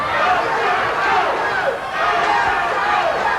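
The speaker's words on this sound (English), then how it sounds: "the crowd's coming up with "Let's go," A classic wrestling crowd roars and chants steadily through the whole stretch, loud and dense with overlapping voices.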